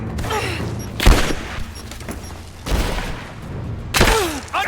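Grenade blasts and gunfire in the video game Rise of the Tomb Raider: three loud booming bursts roughly a second or more apart, each with a crackling tail, over a constant low rumble of combat.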